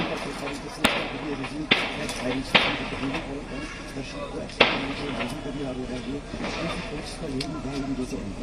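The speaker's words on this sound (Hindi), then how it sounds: "ये पीछे से गोलियों की आवाज आप सुन रहे हैं" Sharp, distant gunshots crack out irregularly, several in a few seconds, under a person talking.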